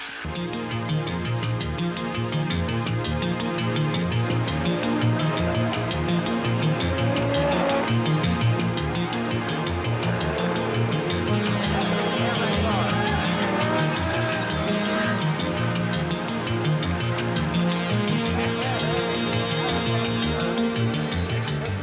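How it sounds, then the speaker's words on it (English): An Audi Quattro race car with American-spec dimensions, driven by Bobby Unser, climbing the Pikes Peak hill climb, its engine droning loudly and continuously with shifting pitch as it revs and accelerates up the mountain course. "Bobby Unser and a Quattro with American dimensions, faster and more powerful than any of its predecessors"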